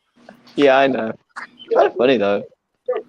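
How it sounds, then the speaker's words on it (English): A pet dog yelps and whimpers in short, high, wavering bursts inside a living room, mixed in with a person talking nearby. "That was just my dog."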